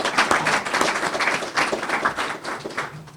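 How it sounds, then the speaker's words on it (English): An audience at an evening author series event claps together, a sustained wash of many hands at moderate loudness with slight rises and dips, no voices on top. "How about a round of applause for all of you and for our friends at Cable"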